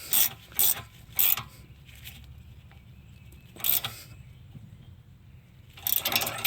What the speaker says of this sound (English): we're going to torque this to 35 foot-pounds